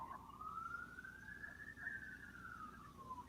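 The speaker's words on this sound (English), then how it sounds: "That's just police car driving by" A police car siren passes by outdoors in a town, its wailing tone rising and then falling over a steady low traffic rumble, moderately loud and with no talking.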